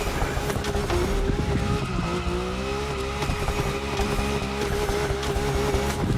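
A RUF CTR-3 drifting in the racing game The Crew Motorfest: a loud, continuous engine roar with shifting revs, mixed with tire squeal as the car slides, with no speech.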